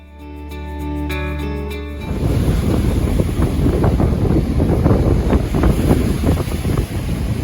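Strong wind roars steadily across the microphone on the Baltic coast, a loud continuous buffeting rush, after a brief musical opening.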